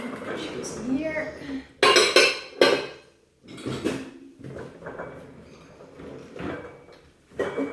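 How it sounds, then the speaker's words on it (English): Cutlery and dishes clatter in a home kitchen as the table is set for dinner, with sharp metallic bursts and clinks spread across the clip, close and fairly quiet, while a person talks between them. "Just the cutlery or silverware as you call it."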